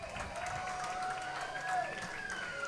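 A crowd of about 1,765 fans cheers and claps at an evening summer-league baseball game between Madison and Wausau, a distant, steady roar with a sustained whistle or horn tone running over it.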